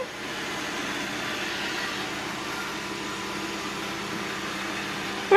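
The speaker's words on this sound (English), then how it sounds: "Getting gutsy riding the vacuum." A Roomba robot vacuum runs with a child riding on it, giving a steady, even motor whir that holds at one level throughout, close by, with no talking.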